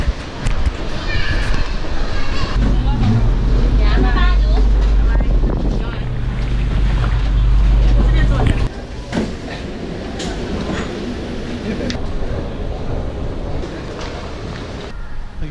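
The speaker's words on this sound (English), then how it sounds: "I think that's my train." A train pulls into a station in Sembawang in northern Singapore, with a loud, heavy low rumble and wind buffeting the microphone, easing to a quieter steady hum after about nine seconds, with faint voices.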